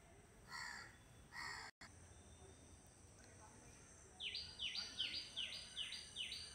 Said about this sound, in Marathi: पक्ष्याचा आवाज घ्या तुम्ही